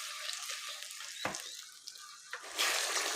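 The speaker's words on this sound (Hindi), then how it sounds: "इसके साथ ही फ्राई कर लीजिए" Tomato paste sizzles and fries in a pan of chicken tikka gravy, giving a soft steady crackle with a stir clunk partway through and louder sizzling toward the end.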